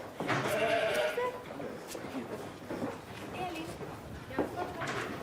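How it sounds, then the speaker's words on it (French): Icelandic sheep on a farm flock of about 500, with scattered bleats near and far over soft outdoor background and faint voices. "Incroyable tous ces moutons."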